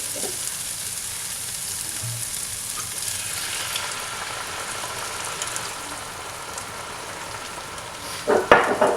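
Tomato paste and red wine sizzle steadily in a skillet, a soft continuous hiss with a brief burst of stirring or scraping near the end.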